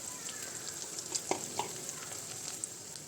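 An egg dish with chili powder, turmeric and salt is stirred in a frying pan, giving a quiet, steady sizzle broken by a few soft clinks of the spoon.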